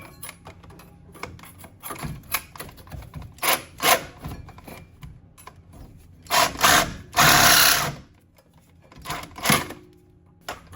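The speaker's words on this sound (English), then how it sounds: "I might have some access in here to get a Sawzall in there" Reciprocating saw (Sawzall) cutting through a seized front shock nut on a 2002-06 Honda CR-V suspension, heard as bursts of harsh rasping and buzzing, some short and some sustained for a second or more, close and loud with pauses between cuts.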